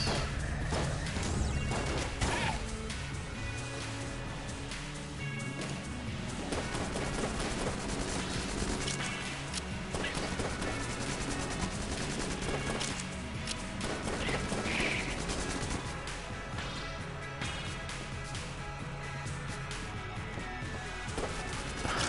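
Dense, continuous enemy gunfire and bullet impacts from the roguelike shooter Enter the Gungeon, a loud, busy barrage of rapid shots and crashes running throughout with game music underneath.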